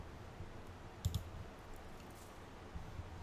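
Computer mouse clicking, a quick pair of soft clicks followed by a few fainter taps, close but quiet against a low hum.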